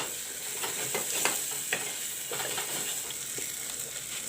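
Soybeans and masalas fry in a pan with a quiet, steady sizzle, broken by a few soft scrapes of stirring; no one speaks.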